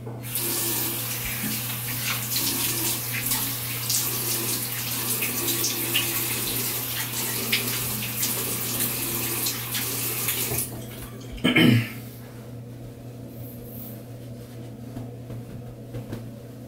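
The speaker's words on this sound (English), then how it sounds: "So, we'll just rinse out the alum and then we'll get going." A tap runs steadily as a block of shaving alum is rinsed, a continuous close hiss of flowing water that stops abruptly, followed by a brief clatter and quiet room tone.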